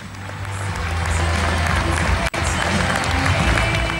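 An audience at a horse fair applauds a show by a cold-blooded draft horse, a dense, steady wash of clapping with a brief dropout midway, then more clapping.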